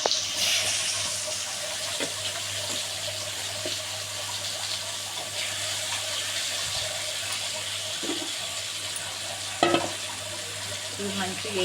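Fish coated in chili powder, salt, fenugreek powder and garlic paste frying in a pan, a steady broad sizzle with occasional stirring clicks and a brief louder crackle.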